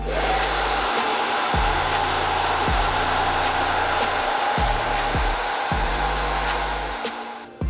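A hair dryer running on high heat while styling men's hair, a loud, steady whooshing blower with a continuous motor hum that dips briefly several times as it is moved, close and alone without talk.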